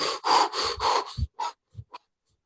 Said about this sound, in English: a rapid breath through the mouth.